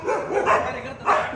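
Dogs bark in a street while chasing a man during a quarrel, a few loud close barks and yips in quick succession.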